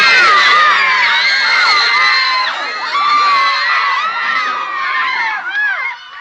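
A crowd of fans, many sounding like young girls, shrieks and screams loudly and continuously, with high overlapping cries that ease off slightly toward the end.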